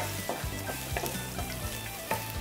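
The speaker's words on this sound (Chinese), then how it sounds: "之后呢就把蒜米跟盐须碎爆香" Garlic and star anise frying in a little oil in a wok, a steady close sizzle with intermittent scraping stir strokes and soft clinks throughout.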